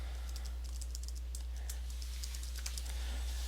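Computer keyboard typing an email address into a Gmail filter: quick irregular key clicks, close and fairly soft over a steady low hum, no voices.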